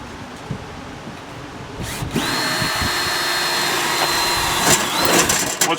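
Power tool driving rivets to fix diamond plate in place, with a sustained high whine starting after a couple of seconds, preceded by some clatter and handling noise.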